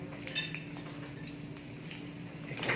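Metal spoon scraping and clinking in a pot while stirring an egg mixture, soft repeated taps and scrapes over a low steady background hum.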